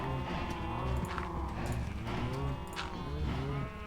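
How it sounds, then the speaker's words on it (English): Several Minecraft cows moo in overlapping, drawn-out calls, loud and close, with faint shuffling in the background. "Okay, we got at least 2 cows in here."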